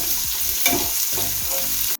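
Small onions sizzle loudly in hot tempering oil for dal, a continuous crackling fry with a brief stir partway through, ending abruptly.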